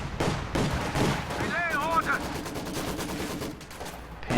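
Gunfire in a World War II strategy game, including machine-gun bursts and rifle shots crackling in a busy battle mix, with a brief whistling tone partway through and occasional louder reports.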